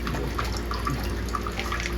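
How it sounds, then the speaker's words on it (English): Water draining out of a refrigerator water line after the household supply was shut off, heard as a steady, close hiss and splash of flowing water with faint drips and no talking. "we had to turn off our water and drain what we could out of the water line"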